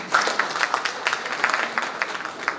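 An audience at a Rajshahi College HSC batch 91 reunion claps together, a brief burst of fairly quiet, evenly spaced claps that fades at the end.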